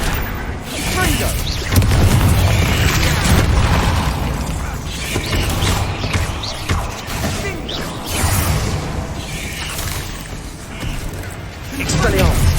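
Repeated Confringo fire-spell blasts in the video game Hogwarts Legacy, booming bursts and whooshes layered over dense combat noise and spell-casting shouts, loud and continuous throughout.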